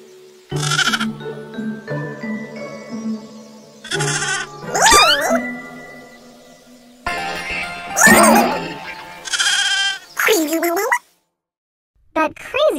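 Several cartoonish sheep bleats, wavering and nasal, scattered between bursts of talking and bouncy sound effects, with a short silence near the end.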